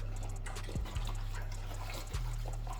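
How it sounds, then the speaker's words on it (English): A dog laps drinking water close by, with quick wet rhythmic laps in a few bursts over a steady indoor background hum. "of course, my dog has to drink some water while I'm sitting right here videoing."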